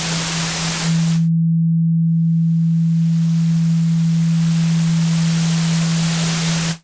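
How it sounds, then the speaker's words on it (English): Synthesizer tone at a steady low pitch with a noise oscillator modulating a phase modulation insert effect, giving a continuous hissing, rushing noise layer over the held note; the noise briefly drops out near the start, then fades back in. "you can hear there we're modulating the phase of this insert effect using the noise"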